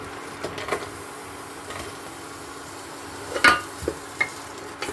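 Onion and garlic frying in a spoonful of oil over low heat, a soft steady sizzle with scattered scrapes of a stirring spoon and a few sharper clinks near the end.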